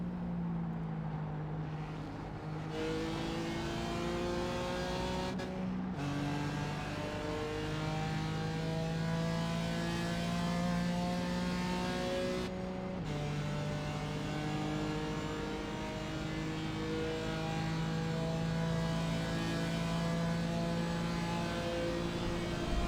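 Race cars lapping Monza in the SRM racing game, a continuous engine drone climbing and dropping through gear changes, with brief cuts on shifts and another car closing in alongside, steady and loud throughout.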